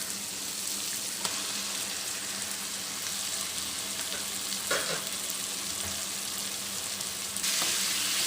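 Prawns frying with small onions in a pan, a dense continuous sizzle with a few faint stirring knocks, close and steady.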